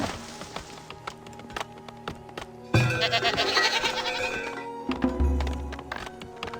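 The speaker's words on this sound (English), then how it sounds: "Let's put the goats in the pen there." Goats in the colony-building game Farthest Frontier bleat in a busy game soundscape with clip-clopping hooves and layered ambient noise, the bleats coming in short bursts toward the end.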